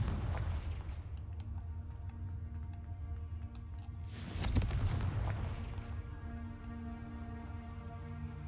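A Confringo blast spell explodes in the video game Hogwarts Legacy, a sharp booming burst cutting loud through steady in-game music and ambience, followed by a fading rumble.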